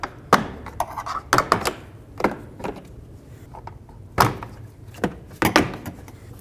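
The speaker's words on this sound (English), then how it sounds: "with the trim tool, go around and pop all of the push clips out" Several sharp plastic pops and clunks spaced irregularly, with faint scraping between them, close and fairly loud, as a trim tool pops plastic push clips from a 2001-07 Toyota Sequoia liftgate cover.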